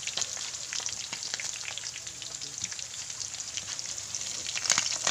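Steady crackling and sizzling of galunggong (round scad) frying in hot oil, close up, with scattered sharp pops over a continuous hiss.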